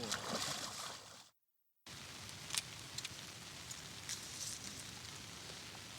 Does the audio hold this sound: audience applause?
no